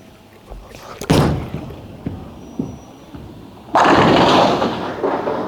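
A Phaze II Pearl bowling ball released onto the lane gives a thud at the drop, a low rolling rumble, then a loud crash of pins near the end.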